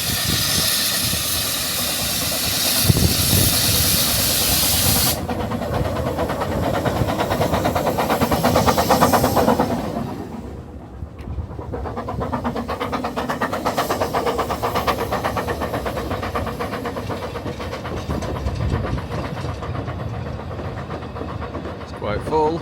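Steam locomotive Tom Rolt hauls a full passenger train on a Welsh railway, a loud steady chuffing and hiss with rolling wagon noise that fades a little as it passes, while a person talks over it.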